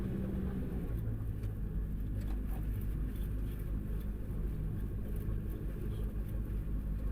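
A Cessna 172 taxis with its engine running, a steady close rumbling drone that holds at an even level throughout, with no speech.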